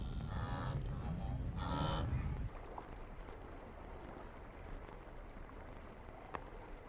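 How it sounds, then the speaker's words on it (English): A herd of wildebeest on the African plains gives deep, moaning grunts, two loud calls close together near the start, then a low rumbling background of the herd. "But the wildebeest are coming."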